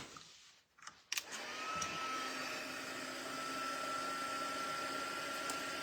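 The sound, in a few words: heat gun heating card embossing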